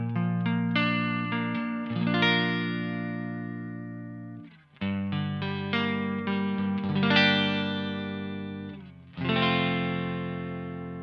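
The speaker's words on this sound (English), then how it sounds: "when you do dial that ratio right down and make it really fast, so the repeats are very close together" Electric guitar through a delay pedal set for fast, closely spaced modulated repeats, with the ratio dialed right down; strummed chords shimmer and smear in a dense, wobbling wash, loud and alone, in three swelling phrases.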